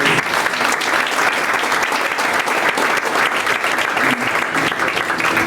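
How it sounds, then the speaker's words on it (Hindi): Audience applause at a church sermon gathering, a dense, loud, continuous burst of many hands clapping together, sustained evenly for several seconds without voices standing out. "हालेलुया, तालियों से धन्यवाद।"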